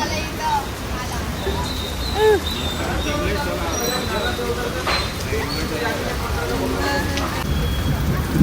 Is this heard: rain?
yes